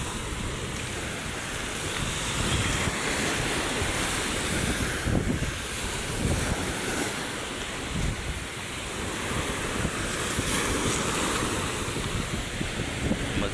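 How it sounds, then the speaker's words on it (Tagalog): Strong waves roll in at Manila Bay, a continuous wash of surf mixed with gusting wind buffeting the microphone, loud and close throughout with no talking. "Ngayon, ang lakas ng alon, no?"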